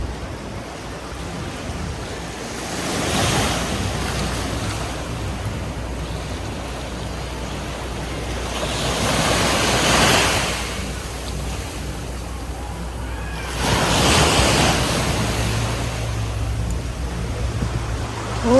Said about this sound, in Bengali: কি সুন্দর জলের আওয়াজ।